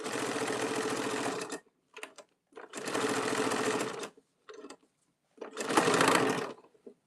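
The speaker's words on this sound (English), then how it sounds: "I'm just going to begin to stitch. This stitch is just going to be a nice straight stitch down." A sewing machine runs a straight stitch along a tote bag seam in three loud, close bursts of rapid mechanical whirring, separated by short pauses with faint clicks.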